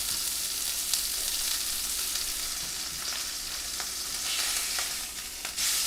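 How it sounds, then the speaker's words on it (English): Salt-and-peppered meat searing in a hot pan, a steady loud close sizzle that holds without a break. "And you just want the sear on it."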